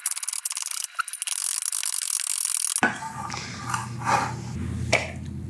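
Knife chopping vegetables finely on a cutting board, a rapid series of sharp, close taps for the first few seconds, then slower, softer knocks and scraping sounds.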